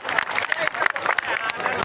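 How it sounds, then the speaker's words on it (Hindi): An audience at an SSC GD honor ceremony gives loud, dense applause for two brothers, continuous clapping throughout, with a voice speaking over it. "दोनों भाइयों के लिए जोरदार तालियां"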